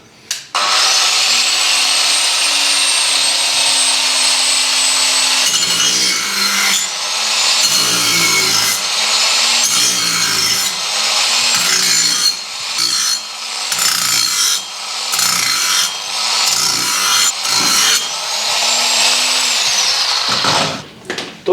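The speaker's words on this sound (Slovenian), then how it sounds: "prvo smo pokazali, kako se brusi z kotno brusilko" An angle grinder sharpens a lawn mower blade, the motor whining steadily before the disc bites in repeated rasping passes with brief pauses between strokes, loud and close with no talking.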